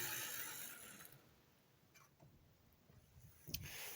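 A small working model locomotive mechanism running at a swap meet, heard as a faint mechanical whir with light ticking and ratcheting clicks, including a sharper clack near the end.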